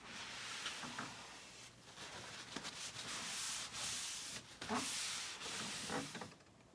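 Soft, steady rubbing strokes of sandpaper lightly sanding a wooden dresser, a light hiss repeating in short back-and-forth passes, close and quiet.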